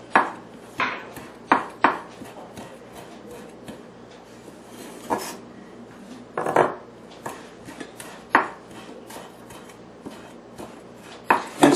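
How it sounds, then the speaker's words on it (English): A knife chops cilantro on a cutting board in a home kitchen, with close, crisp taps coming in irregular bursts and short pauses, the blade sometimes scraping the board, and no talk. "So let's just cut up a little bit of cilantro."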